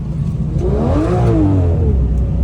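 A Porsche GT3 RS or BMW M5 revs on a road near St. Tropez, its engine note rising then falling in one smooth sweep, close and continuous.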